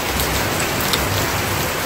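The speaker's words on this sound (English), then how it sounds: "Oh my gosh, it started to rain here." Steady, dense rainfall in Grand-Bassam, Côte d'Ivoire, a loud, even hiss of drops hitting surfaces up close, with no voices over it.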